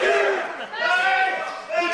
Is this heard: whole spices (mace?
no